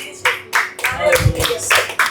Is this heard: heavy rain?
no